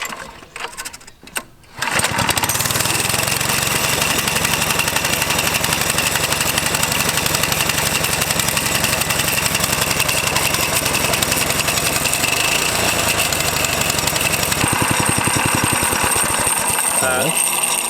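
A small engine on a homemade hybrid trike starts after a brief stutter and then runs steadily and loudly at a fast, buzzy idle, close by, for the rest of the stretch.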